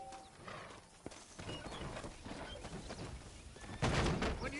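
Horse hooves clip-clopping steadily over a rumbling background in the video game Red Dead Redemption, growing louder near the end.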